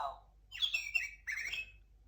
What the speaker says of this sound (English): The sparrow